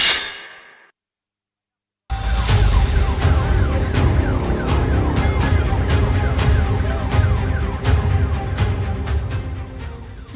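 Ambulance sirens wail continuously while the vehicles sit stuck in a long traffic jam in Mandla, loud and close after a brief silent gap, with sharp horn blasts and street noise mixed in.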